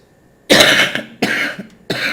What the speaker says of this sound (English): I'm coughing today.